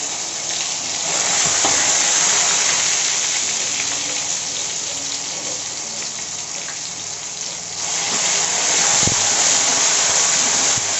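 Ginger garlic paste and curry leaves fry in hot oil for Tamil idli vadakari, giving a loud, steady, close sizzle and crackle that stays constant throughout, with no talking.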